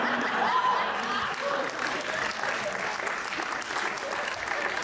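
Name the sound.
audience applause at comedy show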